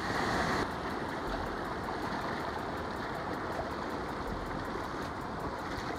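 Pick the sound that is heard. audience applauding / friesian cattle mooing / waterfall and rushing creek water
waterfall and rushing creek water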